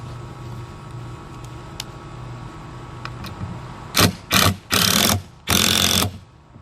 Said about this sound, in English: now you can go ahead and shoot your screws in there.